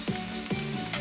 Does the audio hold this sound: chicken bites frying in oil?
yes